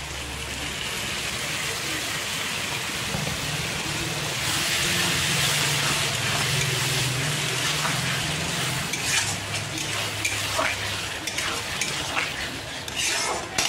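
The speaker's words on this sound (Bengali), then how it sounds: "তো এই যে পেস্ট করা টমেটোটা এটা আমি দিয়ে দেবো।" Tomato paste is stirred into oil sizzling steadily in a pan, with scraping and clinking of a utensil and a louder hiss partway through.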